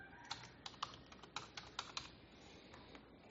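Geodatabase name typed on a computer keyboard: a close, irregular run of crisp key clicks in quick bursts, then a few scattered taps, with no voices.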